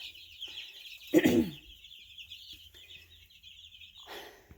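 Baby chicks scatter in alarm, giving thin, high cheeps and peeps close by, with a brief burst of louder, scuffling flutter near the start and quieter peeping after.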